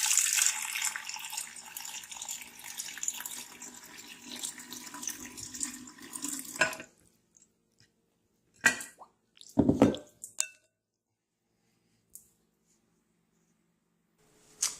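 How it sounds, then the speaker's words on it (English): Hibiscus tea concentrate pours in a steady stream into a container for about six seconds, followed by a few isolated splashes and drips amid near silence. "So all we're going to do is pour this concentrate in."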